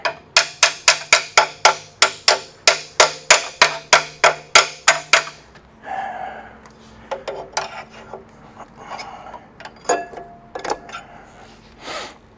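Hammer blows on a Big Cam Cummins diesel engine, about nineteen sharp metallic strikes in a quick steady rhythm, loud and close, followed by scattered clanks and scraping of tools on metal.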